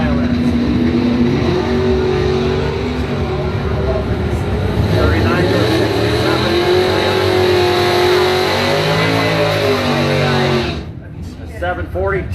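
A Chevrolet Camaro and an 82 Pontiac Firebird drag race, loud roaring engines revving and pulling away under a commentator's voice, then the engine noise cuts off near the end.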